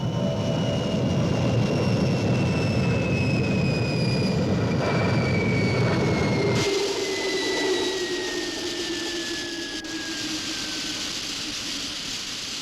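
Fireball XL5 spacecraft engine during landing: a loud, steady jet-like roar with a high descending whine, the low rumble cutting out abruptly partway while a thinner drone continues to the end.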